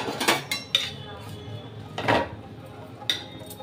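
A fried snack being flipped and set back into a kadhai: several close metallic clanks and scrapes of a utensil against the pan, spaced irregularly, with no talk.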